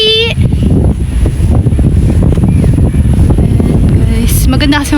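Strong wind buffeting the microphone across a wide open field during kite flying, a loud continuous rumble and roar, with a voice and brief talk at the start and end.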